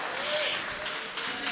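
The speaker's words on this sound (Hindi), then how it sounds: "एक बार जोरदार तालियों के साथ ताबिश साहब का इस्तकबाल फरमाएं।" An audience at a mushaira poetry gathering applauds loudly to welcome the poet, with dense, steady clapping that fills the short stretch without pause.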